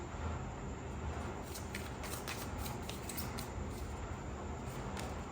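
Tarot cards being shuffled and drawn during a reading, a steady soft papery riffling and flicking with faint crisp snaps, close and continuous, no talking over it.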